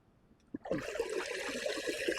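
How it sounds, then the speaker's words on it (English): Water pours and trickles out through an opening flap as a Gosvor Pivot pool vacuum is lifted to drain, a steady splashing gush starting after a brief knock and running continuously close by. "That flap actually opens up and the majority of the water pours out of there"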